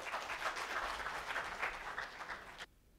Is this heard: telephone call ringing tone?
no